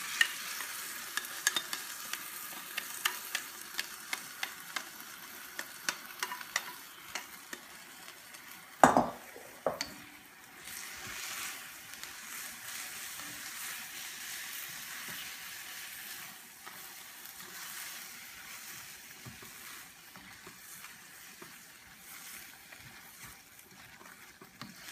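Vegetable chow mein sizzles and fries in a pan, with clattering stirring and scraping in the first seconds and a sharp knock near the middle, then a softer continuous sizzle.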